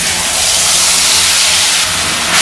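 Chana dal (gram lentil) mixture hitting a hot kadai sets off a loud, steady, broadband sizzle that stays even and close for the whole stretch, with no talking over it.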